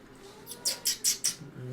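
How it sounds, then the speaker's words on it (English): Four short, high-pitched cat meows in quick succession, moderately close, with faint background noise. "Meowing."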